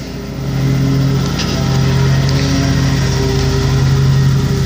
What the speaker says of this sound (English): I'm sorry if you can hear the mowers in the background.